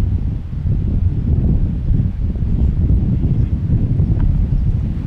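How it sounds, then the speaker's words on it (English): Wind gusts across an outdoor disc golf course during a tournament, a loud, steady low rumble of buffeting against the microphone that continues without a break, with no talking. "A bit of wind here for Braden's putt as well"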